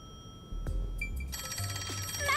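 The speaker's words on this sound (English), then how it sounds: "We are simply just gonna listen to it ring and it will keep ringing until we decide to pick it up." Telephone ringing in the video game Rain Code: a bright electronic ring with a trilling, rapidly pulsing tone that begins after a few soft blips and continues steadily over a low background hum.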